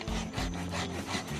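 An air-layered branch is sawn and pulled from a Celeste fig tree: a short burst of close, rough rasping wood strokes, with no talking.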